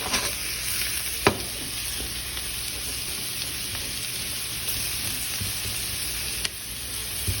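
Onions and garlic sizzling in a skillet for a keto brunch dish, a steady close frying hiss with a couple of sharp utensil clicks against the pan and no voices.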